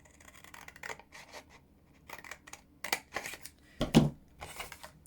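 Scissors snip through card stock with a run of crisp, close cuts and paper rustling in between, ending in a louder flurry of snips. No one speaks.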